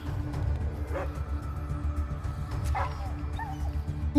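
A dog in the video game Atom RPG gives a few short yips and whimpers, one near the start and another about two-thirds through, over a steady low game background.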